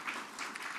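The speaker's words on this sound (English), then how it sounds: "Give her a round of applause." Applause from an audience at a New York governor's bill signing for Holocaust survivors, honoring a state financial services superintendent; a brief, steady burst of clapping with no one speaking over it.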